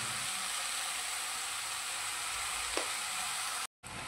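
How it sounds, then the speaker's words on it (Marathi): Rajgira (amaranth) leaf bhaji with salt sizzles steadily in a hot pan as it is stirred, a soft scrape cutting through near the end, followed by a brief dropout and then more frying hiss. "भाजीला हलवून घेऊ चांगलं।"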